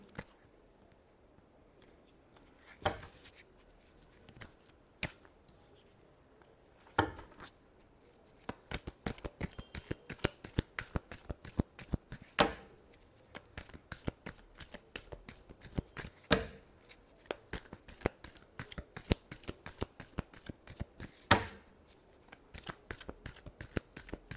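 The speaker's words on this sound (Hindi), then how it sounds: "Last shuffle." Tarot cards shuffled by hand in a long run of crisp riffling and flicking bursts, sparse at first then dense and rhythmic, close and fairly quiet with no talking.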